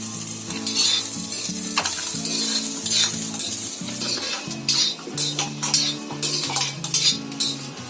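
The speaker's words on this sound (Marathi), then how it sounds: "थोडासा तेल टाकते कांदा भाजायला" Onion fries in oil in a pan, a continuous sizzle broken by scraping and clinking as a utensil stirs against the metal, with background music running underneath.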